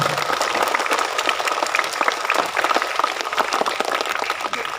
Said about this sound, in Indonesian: Tepuk tangan dulu untuk anak Cika